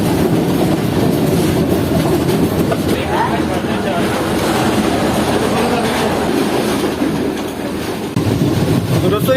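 Sir Syed Express passenger train rolling along the rails, a loud, sustained rumble with rhythmic clickety-clack from the wheels and carriages, recorded from on board, with a brief dip in the noise near the end.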